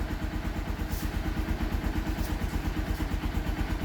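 2023 Honda XR150L motorcycle with a rejetted carburetor, 108 main and 38 pilot, running at a steady fast idle just after starting, an even close-up thumping putter with no talk.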